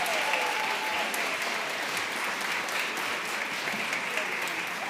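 Concert audience applauding a children's choir, a broad, sustained roar of many hands clapping at steady loudness for several seconds, with no talking.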